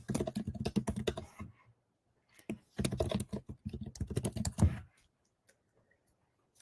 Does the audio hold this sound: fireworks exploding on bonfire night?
no